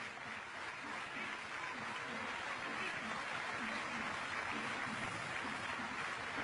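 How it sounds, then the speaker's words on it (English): Spectators at a beach football match give sympathetic applause after a player's serious injury, a soft, distant wash of clapping that stays faint and steady, with voices mixed in underneath. "Sympathetic applause."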